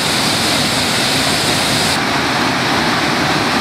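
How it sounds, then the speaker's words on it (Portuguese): Cachoeira do Prata waterfall roars as a loud, steady broadband rush of falling water, close and unbroken throughout. "Ao lado dessa cachoeira belíssima aqui"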